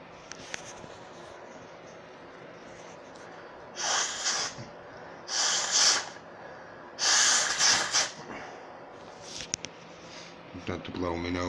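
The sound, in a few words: blowing nose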